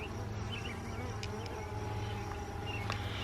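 Honey bees swarm around the queen in an open hive during queen marking, making a constant, dense buzz close by with a few sharper individual wingbeats passing near.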